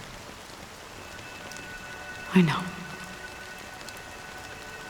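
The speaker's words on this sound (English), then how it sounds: "But it's still raining." Steady rain patters continuously in the video game Honkai: Star Rail, a soft, even hiss throughout, with a brief spoken voice in the middle.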